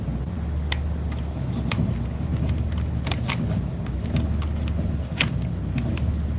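A car idles steadily after parking on a residential street in light rain, a continuous low engine rumble running through with faint clicks and small knocks over it.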